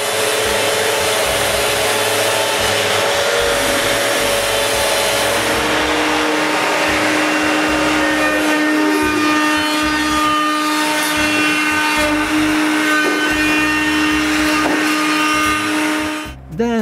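A router rounds over the sharp edges of shop shelf parts with a loud, continuous high whine and a shifting pitch as it cuts, running steadily before dropping off at the end.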